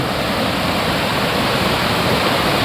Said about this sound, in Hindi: ये पानी, ये आबशारे, कितना बड़ा नेमत है यार।